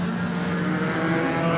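National 4's speedway race cars roaring past on the Gympie Speedway track, a loud, continuous engine drone that holds steady with no voices over it.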